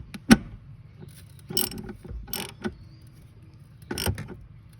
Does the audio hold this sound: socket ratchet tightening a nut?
yes